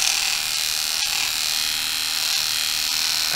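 Corded electric shears run continuously while clipping an angora rabbit, a steady high buzzing hum held close and loud, with a faint click or two and no talking.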